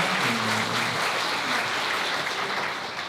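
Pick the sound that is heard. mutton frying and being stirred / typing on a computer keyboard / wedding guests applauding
wedding guests applauding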